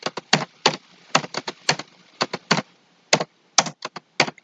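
Keystrokes on a computer keyboard during typing in a Microsoft Word lesson, a quick irregular run of sharp clicks in short bursts with brief pauses, close and clear with no talking.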